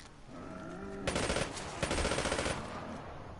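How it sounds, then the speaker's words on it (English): Rapid automatic gunfire from a PS4 video game rattles in two loud sustained bursts over faint game tones, with no talking. "Your guns are very loud."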